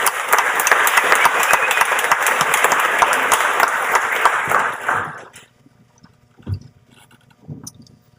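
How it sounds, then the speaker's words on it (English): Commencement audience gives a round of applause, a loud, dense crowd clapping that holds for about five seconds, then cuts off into near silence with a couple of faint thumps. "Let's give them a round of applause and thank them for this special moment in these amazing 8 years."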